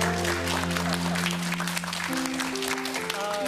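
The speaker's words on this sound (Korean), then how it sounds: "박수 한번 보내주시겠어요?" A Korean television studio audience claps steadily and fairly loudly, a dense crowd patter held at an even level with sustained musical tones underneath.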